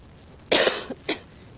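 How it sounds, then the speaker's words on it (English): One person coughs out in the bush after elephants have kicked up dust: a sharp hacking cough, a short catch, then a second smaller cough, close and fairly loud against a quiet background. "I'm now hacking away and coughing and sneezing"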